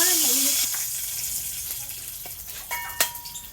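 Oil and salt sizzling in a hot frying pan give a steady bright hiss, broken by a few sharp metallic clinks near the end, with a short vocal sound at the very start.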